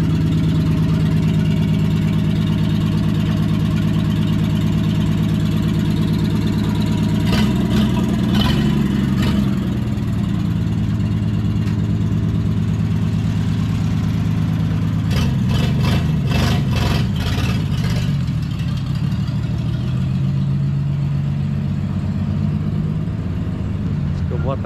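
A Ford Rural car engine, taken for an exhaust fitting, idles loudly and steadily throughout, rumbling low with a couple of brief revs, while people talk nearby.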